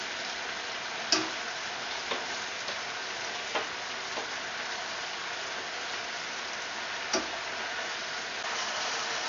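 Frog legs frying in a pan with garlic and honey: a steady soft sizzle and crackle, with a few sharp pops standing out over the even frying.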